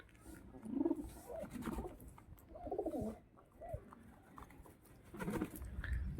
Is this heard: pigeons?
yes